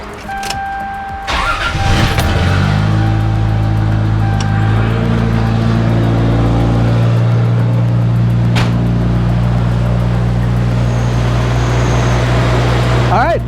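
Toyota Supra MKIV engine cranks and fires after a spark plug change, then settles into a steady, loud, close idle with a strong low rumble that holds for the rest of the clip.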